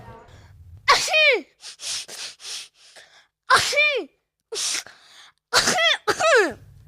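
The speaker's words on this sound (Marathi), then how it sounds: "नेहमीच्या शिंका चालूच का तुझ्या" A person sneezes repeatedly, several sharp bursts in quick succession with short gasps between them, close and loud, while voices are heard around them.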